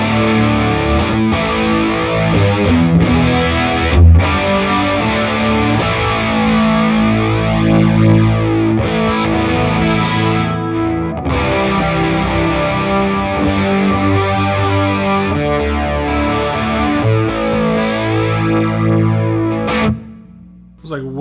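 Distorted electric guitar run through a chorus pedal in an amplifier's effects loop, giving a loud, sweeping, shimmering tone with sustained chords and picked notes throughout, nearly flange-like in character.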